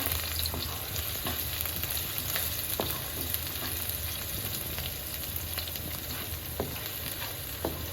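Food frying in a pan during stirring, giving a dense continuous sizzle with occasional soft scrapes and clicks of the spoon, close and steady throughout.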